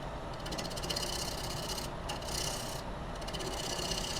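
A small 1/2-inch Benjamin's Best bowl gouge, sharpened to a pointed tip, cuts a tenon into wet wood spinning on a lathe. The steady, close, rasping hiss runs continuously, with brief dips where the tool lifts off.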